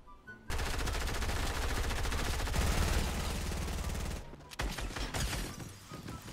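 Rapid automatic gunfire from Fortnite Mobile bursts loud and continuous for several seconds, then breaks into shorter sharp volleys near the end, with no talk over it.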